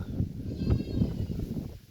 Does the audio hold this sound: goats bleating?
yes